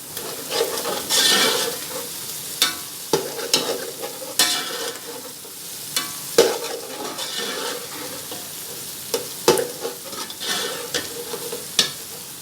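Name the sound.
frying and stirring green chillies for matar pulao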